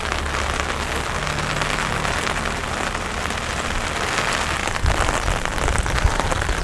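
Heavy rain pours steadily onto a rooftop terrace garden, a dense continuous hiss of drops striking surfaces with no voices, holding an even loudness from start to finish.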